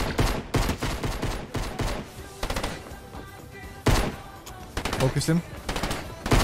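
Rapid bursts of video game gunfire, including shotgun blasts, crack out in repeated close volleys while players talk over the shooting.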